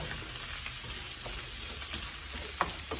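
Onions frying with salt in a pan for Jaffna chicken curry, a steady close sizzle with occasional soft stirring scrapes and pops.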